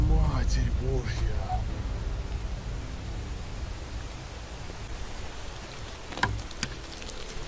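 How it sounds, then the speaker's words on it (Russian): Heavy rain pouring outside, a steady hiss of downpour under someone speaking, with a few brief sharper noises near the end. "Дождь. Это, знаете, вот один из тех сценариев, когда на улице просто жесткий ливень"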